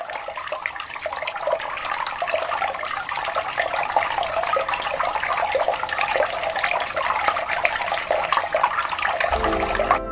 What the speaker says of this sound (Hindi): झरनों से, नदियों से बहता शांत शीतल पानी।